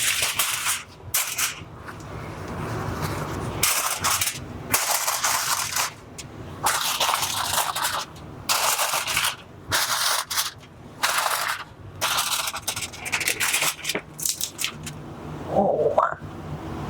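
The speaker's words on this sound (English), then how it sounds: "I gotta add some tin foil to my squash because I really don't want it to dry out in here." Tin foil being handled and crinkled to cover roasting butternut squash on a wood cook stove, with repeated loud crackling bursts separated by short pauses, close by.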